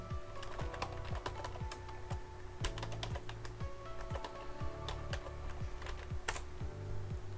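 A computer keyboard is typed on in quick, irregular bursts of clicky keystrokes, close and fairly quiet, as login details are entered, with no talking.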